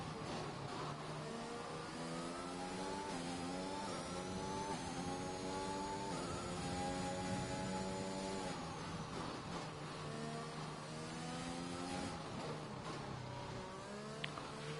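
A McLaren race car's engine screams through repeated upshifts and revs in a racing video game at the France round, loud and steady, with pitch climbing and dropping across several gear changes, no talk.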